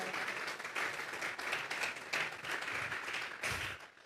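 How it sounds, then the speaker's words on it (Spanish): Church congregation giving a burst of sustained applause during a service, many hands clapping together in a dense, even wash that swells and dips over several seconds. "Vamos a regalarle ofrenda de palmas al Dios de la gloria."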